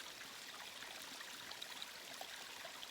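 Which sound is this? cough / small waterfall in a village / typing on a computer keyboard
small waterfall in a village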